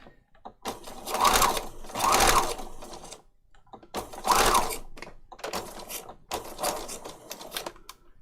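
A sewing machine stitching through paper patchwork runs in uneven bursts, speeding up and slowing down with short pauses between runs of stitching, close and fairly loud.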